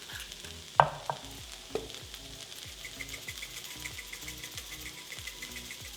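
Spices including oregano, cayenne and red pepper flakes are stirred in a pan for Mexican stuffed sweet potatoes, with steady rhythmic scraping strokes over a light sizzle and a few sharper knocks early on.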